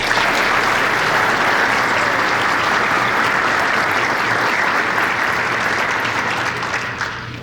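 Sustained loud applause from a large audience honoring award recipients at a Border Patrol academy graduation ceremony, steady dense clapping throughout that tapers slightly at the end.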